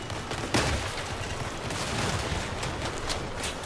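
Shotguns fire in the vehicle combat game Crossout amid a dense, continuous wash of battle noise, with a sharp blast standing out early and a few more cracks scattered through the roar.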